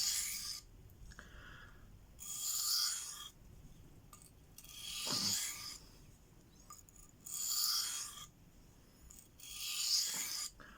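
A knife edge is drawn across a Venev diamond stone to remove the burr, giving five evenly spaced rasping strokes, each a second or so long with short pauses between, close and fairly quiet.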